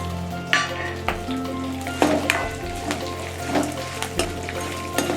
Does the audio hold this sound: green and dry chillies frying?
yes